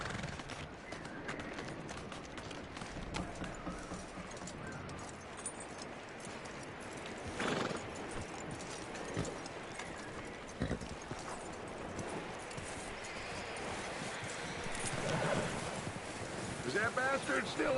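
Hooves clip-clop from a horse in the video game Red Dead Redemption 2, a steady quiet trotting rhythm under wind and ambient game sound, with brief louder thuds along the way.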